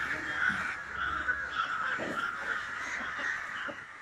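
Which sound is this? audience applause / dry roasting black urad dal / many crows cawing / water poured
many crows cawing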